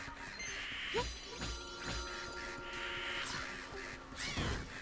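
Crow-like cawing from a bird enemy in the video game Zelda: Echoes of Wisdom, several harsh calls over game music and effects, with occasional hits.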